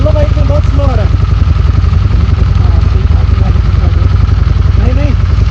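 A motorcycle riding slowly along a rough, dangerous mountain road toward Adi Kailash, its engine droning steadily and loudly throughout while someone talks over it.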